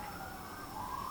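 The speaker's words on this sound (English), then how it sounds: "So yes, you guys hear the sirens." Emergency vehicle siren wailing through a neighborhood, a steady rising and falling tone that stays fairly faint and distant, with a constant low rumble of background noise underneath.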